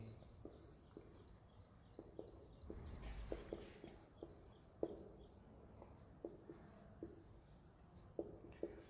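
Pen strokes write a definition by hand, with faint, close scratches and repeated light taps at irregular intervals, plus soft background ambience and occasional bird chirps.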